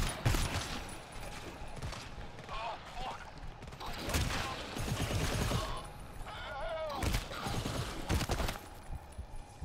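Gunfire in a co-op horror shooter, a series of sharp shots and short bursts scattered through the stretch, some close and loud, with brief voices and game noises between them.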